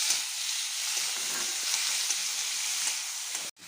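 Onion and chopped tomato fry in a pan as the base for a rohu fish curry, a steady close sizzle and crackle running throughout with no talk, cut off briefly near the end.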